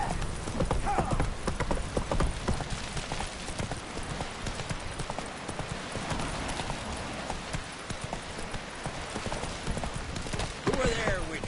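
Roach, the horse in The Witcher, gallops with a steady, loud clip-clop of hooves throughout, with game voices talking over it and a brief whinny near the end.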